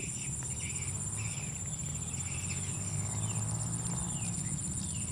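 A swiftlet call playback at a swiftlet farm: faint high chirps and twittering sit over a steady insect-like buzz and constant background hum, continuous and fairly quiet throughout.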